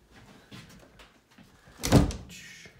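A cabin kitchen cupboard or drawer being opened, a single brief wooden thunk and slide, close and fairly loud, following quieter handling noises in an otherwise hushed room.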